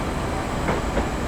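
A train in Train Simulator Classic rolls along the rails with a steady, loud rumble and faint clicks of wheels over joints, with no talk.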